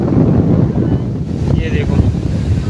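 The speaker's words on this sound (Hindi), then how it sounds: "देखो कितनी बढ़िया हवा चल रही है।" Strong wind blows steadily outdoors at a fish farm, a loud, continuous rushing roar buffeting the microphone with no break.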